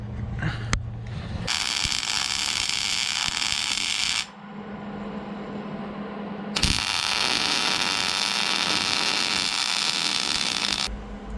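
Outdoor welding on a one-ton Nissan truck, burning in a seam after tacking it. Two long, steady bursts of crackling, hissing arc noise are separated by a short pause, and the welding is fairly close by.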